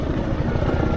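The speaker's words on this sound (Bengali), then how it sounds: "যে আমার উপর দিয়ে আবার হেলিকপ্টার যাচ্ছে" A helicopter passes overhead at a boat club in the Jessore cantonment, its steady, loud rotor thrum continuous and close throughout the short stretch, with no talk.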